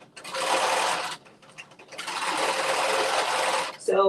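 A sewing machine stitches a dress waistband in two sustained runs of fast, even whirring, close and loud, separated by a short pause, while a person talks.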